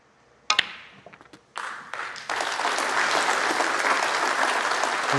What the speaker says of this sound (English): There's the round of applause for the ball that gets Selby to the snooker's required st